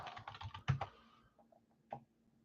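Computer keyboard typing during a live sports card break stream: a quick run of clustered keystrokes, then a few sparse taps and one firmer press, close and fairly quiet with no voices.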